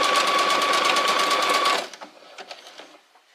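A sewing machine stitches fabric in a steady, loud mechanical whir for almost two seconds, then stops and leaves a few faint clicks and handling sounds.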